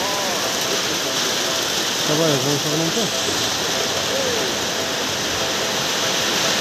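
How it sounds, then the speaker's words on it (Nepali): Steady rain falling outdoors in Chaurjahari, a dense even hiss filling the whole stretch, with a voice speaking briefly over it partway through. "हेर्नुहोस् पानी परिरहेको छ एकदम"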